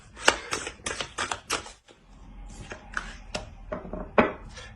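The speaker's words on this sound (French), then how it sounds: "on va rajouter une carte avec l'oracle de la déesse sombre" Dry, rapid card-shuffling clicks from an oracle deck of the dark goddess, a burst of crisp flutters followed by scattered taps and slides as a card is drawn, close and fairly loud.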